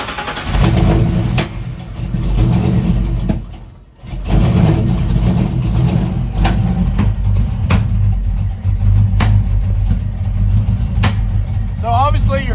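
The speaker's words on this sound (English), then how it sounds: "obviously you're hearing the backfire right now, even though the car's running fairly okay" A car engine idles and revs close by, with sharp cracking pops from the exhaust scattered through the running, plus a brief dip in the engine noise.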